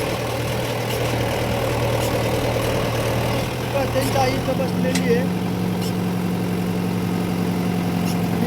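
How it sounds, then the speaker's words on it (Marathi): A tractor engine runs steadily in a field during ploughing, a loud continuous low hum whose pitch steps up partway through, with a person talking over it. "पलीकडून तिकून रिवर्स ट्रॅक्टर घेऊन आपण बाकीचे नांगरणार आहे"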